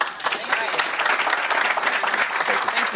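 Audience applause at a mayoral event in Washington, D.C., steady dense clapping filling the whole stretch at close range, with some voices mixed in.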